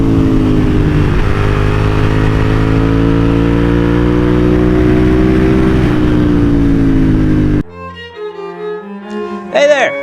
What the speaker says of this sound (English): this is my new motorcycle